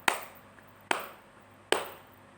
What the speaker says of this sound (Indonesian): Kedua tepuk tangan.